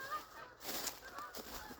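Several geese call in scattered honks as the flock flies overhead, moderately distant, with brief gusty noise in between and no talking.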